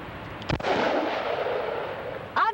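Gunfire from a handgun at an outdoor shooting session: one sharp loud report followed by a long rumbling echo, then a second shot starting near the end.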